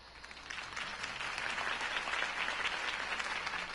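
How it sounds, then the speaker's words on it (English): Crowd applause following a campaign speech in the Telltale Batman video game, a dense, steady wash of many hands clapping that swells slightly and holds at a fairly loud level throughout, with no talking over it. "could have heard that applause"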